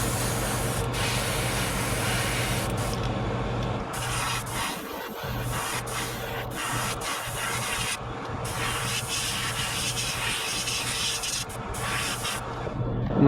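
Steady airbrush hiss of metallic light green Peridot paint being sprayed onto a crappie swimbait, continuous and close with brief pauses between passes.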